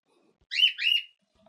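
A pet bird chirps twice in quick succession indoors, bright whistled tweets close by and clear, with quiet room sound before and after.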